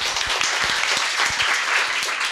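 A seminar audience claps in encouragement for a questioner, a full wash of steady applause with a few distinct, crisp claps standing out near the front.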